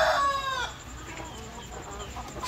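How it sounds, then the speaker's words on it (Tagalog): Chickens in a farm breeding pen, with a rooster's loud crow trailing off at the start, followed by scattered low clucks and soft shuffling close by. "So yan mga ka-farmers, yung mga manok natin."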